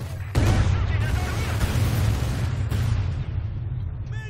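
Loud, booming grenade blasts and battlefield explosions in the Stalingrad fighting of the video game Company of Heroes 2, a dense roar of bursts and rumble sustained throughout, with shouting voices mixed in.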